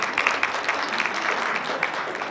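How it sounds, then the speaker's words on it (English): An audience at an early evening reception of The Women's Foundation of Colorado claps steadily. The applause is moderate and even, with a few sharper individual claps standing out, and it lasts the whole short stretch. "Give yourself a round of applause."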